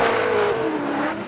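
An LS V8-powered Nissan S14.5 drift car roars past at a drift event, its exhaust note loud and sustained with a steady, consistent drone and a slight falling pitch over about a second.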